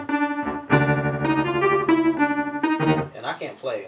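Sustained synthesizer tones with a buzzy, effected timbre shift between held notes, loud and close, ending in warbling, wobbly textures.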